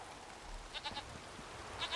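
Goat bleating in the video game The Witcher 3: Wild Hunt, a few short, faint bleats in two small bursts over a quiet background.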